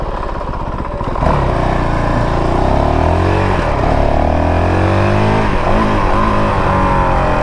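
A 2022 Honda CRF450RL dirt bike ridden on 30 mph neighborhood roads, its loud close single-cylinder engine revving up and dropping through sharp throttle blips on downshifts, with a brief quieter idle at the start.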